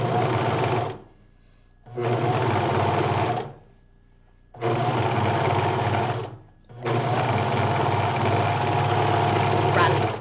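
A sewing machine stitches a seam on stretch fabric, running loudly and steadily up close in four bursts separated by short silent pauses, with the last run the longest.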